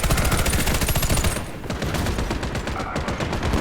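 Sustained machine gun fire in the shooter game Warface, a dense rapid stream of loud gunshots that thins briefly midway and then carries on steadily without any talk.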